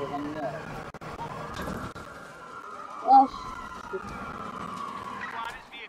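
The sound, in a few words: police siren in video game Watch Dogs 2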